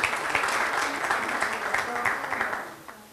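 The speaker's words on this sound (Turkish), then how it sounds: "Ona da bir alkış rica ediyorum sizlerden." Audience applause at a stage show, sustained crowd clapping at moderate volume with speech-like voices mixed through it.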